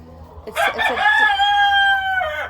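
A rooster crows loudly and close by, a long drawn-out call preceded by a few short clucks.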